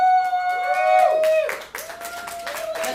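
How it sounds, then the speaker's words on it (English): A crowd at a poetry open mic claps and cheers, with loud, close applause mixed with whoops and sustained tonal whistles or shouts, and voices heard through it. "Let's keep clapping till we get to him."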